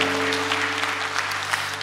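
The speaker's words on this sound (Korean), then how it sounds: "우리 한번 하나님께 영광의 박수 올리겠습니다" A church congregation claps together in steady, dense applause that fills the room, with a sustained organ or keyboard tone held underneath and no speech over it.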